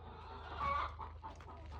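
Free-ranging chickens clucking outdoors, a low busy murmur of hens with a slightly louder burst midway, steady background hum beneath.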